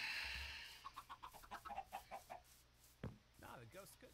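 Minecraft chickens cluck softly in a quick run of about a dozen rhythmic clucks, followed by a faint voice and a few more scattered farm sounds.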